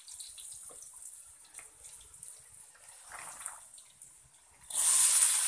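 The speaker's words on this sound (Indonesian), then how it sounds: "Baiknya endongnya dicuci sampai bersih dan memakai garam di air yang mengalir" Running tap water rinses teak caterpillar pupae washed with salt in a sink, a soft steady trickle that swells into a louder, closer gush near the end.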